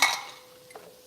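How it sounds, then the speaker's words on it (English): A utensil scrapes and clinks against a pot while soup is stirred for a Thanksgiving recipe, a short burst of clatter at the start and then faint scattered ticks. "So give it a good mix."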